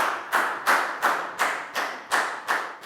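Applause for a pupil during a Year 3 English lesson, a short run of about eight even, evenly spaced claps, close and moderately loud with nothing else under them.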